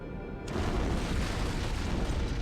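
An antimatter charge explodes aboard a ship in Halo: Combat Evolved. Silence breaks into a sudden loud blast, then a dense, sustained rumbling roar continues to the end.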